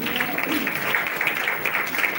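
Audience at a college function at Raja Ratna KITS applauding the Director of Academics as he comes onto the dais: a dense, continuous patter of many hands clapping, moderately faint, with no clear voices.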